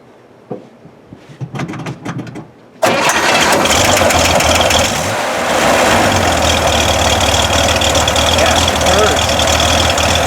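Stock Chevrolet Corvair engine cranks over several times with uneven clatter, then fires abruptly and settles into a loud, steady, rumbling idle up close, with a brief dip in level partway through.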